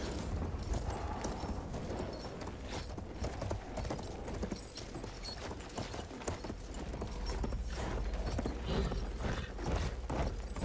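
A horse gallops in the World War I shooter game Battlefield 1, rapid loud hoofbeats pounding continuously, with mechanical game sounds layered underneath.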